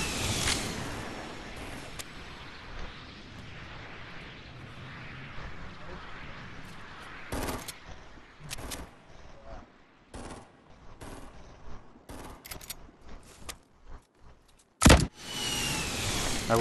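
Fortnite squad battle with gunfire and rockets: bursts of automatic fire and sharp blasts come in clusters, loud and up close, with a heavy explosion near the end and loud game noise throughout.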